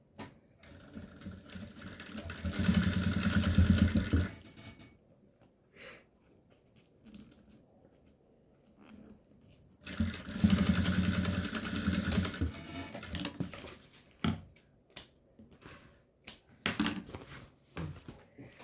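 A sewing machine stitches fabric in two long steady runs of whirring, separated by a quiet pause, followed by short clicks and handling noises as the cloth is adjusted.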